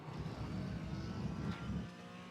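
Porsche Cayman 718 GT4 in iRacing at Road America, braking into Canada corner and dropping to third gear: a steady, moderately loud engine drone that shifts pitch as the revs fall, then settles.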